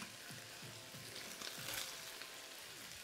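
Onions frying in a wok for a Chinese takeaway-style curry give a steady, soft sizzle, with several quick tossing scrapes and a brief louder burst midway, heard close and quiet.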